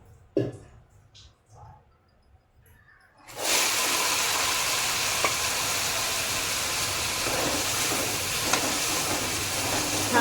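Peas hitting hot oil in a pan for matar paneer set off a sudden loud, steady sizzle that holds on after a few quiet taps and clinks.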